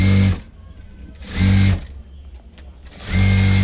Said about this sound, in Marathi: त्याच्यावरती असं बरोबर दाब शिलाई मारून घ्यायचे